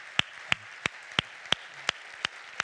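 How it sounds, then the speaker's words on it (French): Hand claps in a hall during an introductory speech at a corporate event: about eight slow, evenly spaced sharp claps, fairly quiet, from one person or a few hands rather than full applause. "Applaudissez, oui."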